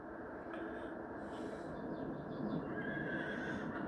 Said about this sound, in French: Là, vous voyez les chevaux.